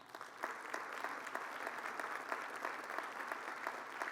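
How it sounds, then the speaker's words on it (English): An awards event audience gives a big round of applause: dense, sustained clapping from a large crowd, with individual claps standing out as sharp near strikes throughout. "So one more big round of applause."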